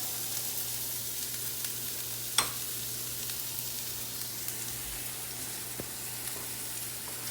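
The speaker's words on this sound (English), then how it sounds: "So we're going to saute this around for, I don't know, maybe 4 or 5 minutes, maybe less" Garlic, onions and peppers sauté in butter in a pan with a continuous low sizzle, marked by an occasional sharp tap of a utensil, quiet and without voices.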